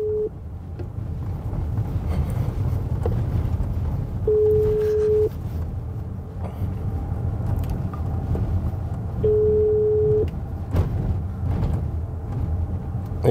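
A telephone ringback tone plays while a call waits to connect: three separate one-second beeps, spaced about five seconds apart, over a low background hum.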